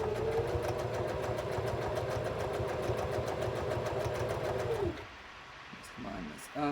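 Sewing machine stitching jelly roll fabric strips for lanyards and wristlets, a steady close mechanical hum that runs for about five seconds before stopping, with a few faint sounds afterward.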